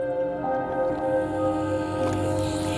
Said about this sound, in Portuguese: este barco a motor produz um ruído insuportável debaixo de água